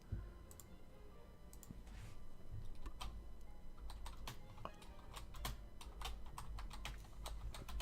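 Rapid bursts of computer keyboard typing while writing a will in the game Town of Salem, sharp close clicks in an irregular stream over a quiet background hum, with no talking.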